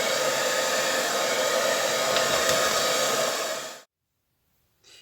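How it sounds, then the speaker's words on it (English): A hairdryer blows across a wet acrylic paint pour base: a loud, steady, close whoosh of air that runs for several seconds, then switches off abruptly into silence, followed by a faint brief restart. "So I'm going to use my hairdryer just to blow this base out."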